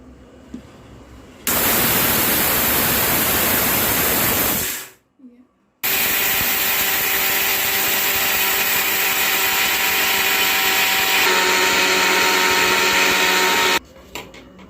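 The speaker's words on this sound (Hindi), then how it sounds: "बनाने के लिए मैंने चना और जौ को मिक्सी ग्राइंडर में डाल दिया है। अब इसे हम ग्राइंड करेंगे।" A mixer grinder loaded with chickpeas and barley for sattu runs in two loud bursts of roaring, gritty whirring, with a brief stop between them and quiet at the start and end.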